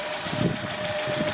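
A 1985 Mercedes-Benz W123 200T estate engine idling with a low, even rumble and a faint steady hum, heard briefly and close.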